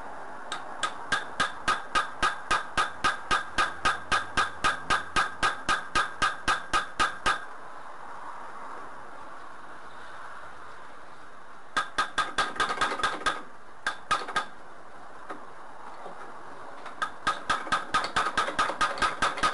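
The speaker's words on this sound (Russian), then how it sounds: "давайте будем ее пробивать гвоздем" A plain nail is driven into a clamped light bulb with a hammer, giving rapid, evenly spaced hammer blows in long runs. A pause with quieter background falls between bursts, and the blows return in shorter groups.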